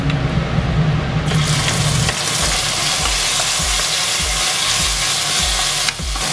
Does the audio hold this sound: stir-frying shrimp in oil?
yes